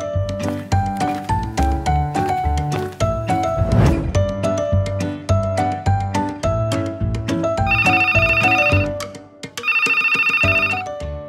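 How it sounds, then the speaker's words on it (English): A telephone rings loudly in repeated electronic bursts over background music in an office-style scene, with speech faintly present. "Somebody's phone is ringing."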